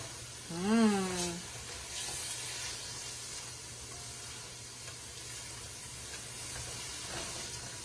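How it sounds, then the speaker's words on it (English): Ham cooks in its own released grease in a pan for a Puerto Rican dish, giving a steady soft sizzle and hiss. A brief voice-like tone rises near the start. "you're gonna cook it for about 30 seconds so it will mix well with the grease that the ham released"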